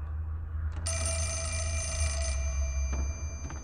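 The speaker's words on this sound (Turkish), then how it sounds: "Resepsiyon telefon çalıyor lan." Reception telephone in the Fatal Frame horror game ringing with a bright metallic bell for over a second, then trailing off over a low rumbling background.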